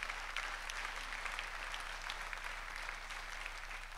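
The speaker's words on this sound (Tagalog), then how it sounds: "Sa lahat ng yan, pumalakpak ng malakas kay Lord." A church congregation applauding during a sermon, a steady wash of many hands clapping for several seconds, moderately distant and fairly quiet, with no one speaking over it.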